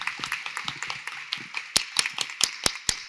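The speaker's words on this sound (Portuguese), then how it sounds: "uma salva de palmas" At an environmental education seminar, a small audience gives a round of applause: sparse, uneven claps that grow into sharper, louder individual hand claps toward the end.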